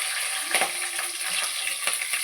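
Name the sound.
garlic and green chillies frying in oil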